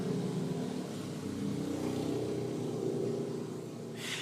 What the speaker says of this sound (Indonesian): motor lewat nih. Dengarkan ya.